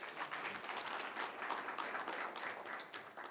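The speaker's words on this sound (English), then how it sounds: "Please give a round of applause for James." An audience claps for a speaker arriving at an evening talk, a continuous, moderately loud patter of many hands with no voices over it.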